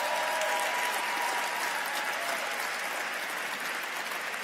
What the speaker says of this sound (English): So can we get a round of applause for Dr.